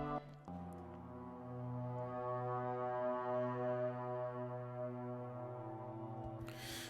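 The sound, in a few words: cello with reverb effects, double tracked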